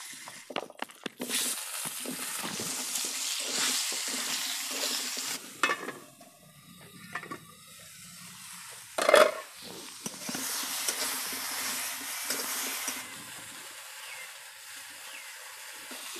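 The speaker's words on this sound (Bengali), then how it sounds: "এখন আলুটি ভাজবাম" Potatoes fry in hot oil with turmeric and salt, a broad sizzle broken by stirring scrapes and a short sharp clank, which quiets briefly midway and then hisses on.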